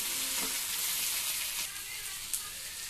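Okra (bendakaya) frying in oil with chili powder, salt and coriander powder, a continuous bright sizzle and crackle close up, with faint stirring.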